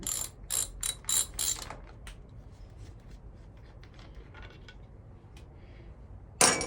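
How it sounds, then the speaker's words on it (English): A 17mm socket ratchet clicks in a quick burst of several sharp strokes, then faint scattered handling noises, while loosening the valve cover cap on a 1986 Honda CT110 motorcycle engine; another louder ratchet burst returns at the end. "we'll use a 17mm socket to take off the valve cover tap"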